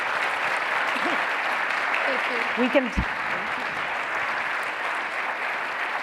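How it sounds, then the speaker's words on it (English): A breakfast audience at a women's leadership event for City Year applauds women leaders with dense, steady clapping that fills the room throughout, with a brief spoken phrase near the middle. "Can we please give a round of applause for these amazing women?"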